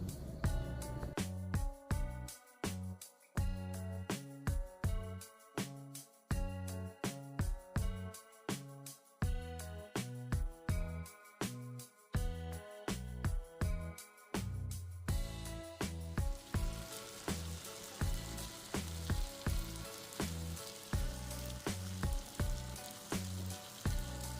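Spicy chicken fry being mixed in a pan on high flame: loud, rhythmic stirring strokes over a strong sizzle, turning into a denser, constant hiss toward the end.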